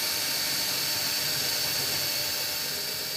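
A Milwaukee 12-volt cordless screwdriver with a metal gear housing running continuously, a steady high-pitched motor whine held at an even level for a few seconds, close and alone.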